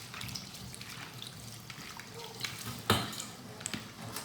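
Moringa leaves being washed by hand in a pot of water, with soft splashing and trickling that stays fairly quiet and steady, plus one brief louder slosh near the end.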